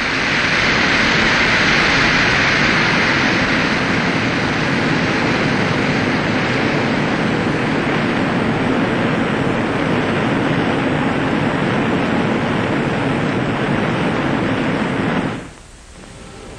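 Aircraft flying in close formation at low altitude give a loud, continuous roar of engines that stays steady for about fifteen seconds and then drops away abruptly to a quieter hum.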